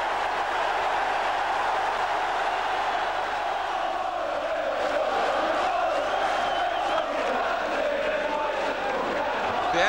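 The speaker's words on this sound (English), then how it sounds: "The Ayresome Park crowd revelling in the return of First Division football here this season." A large football crowd at Ayresome Park roars and cheers continuously for a Middlesbrough comeback in a First Division match, a dense, sustained wall of voices from the terraces.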